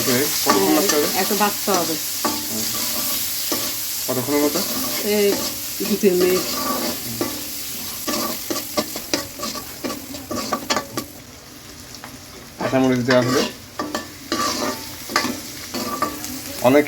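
House fish curry masala stirred and sautéed in an old blackened kadai, with a steady frying sizzle under repeated scraping strokes of a spoon against the pan, close and fairly loud.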